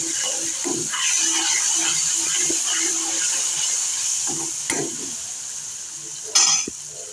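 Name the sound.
patra spice mixture boiling in a pan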